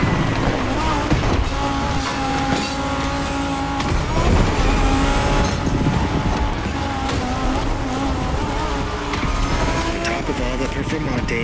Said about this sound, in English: Driving a Lamborghini Huracan Performante with a special Liberty Walk performance flavor.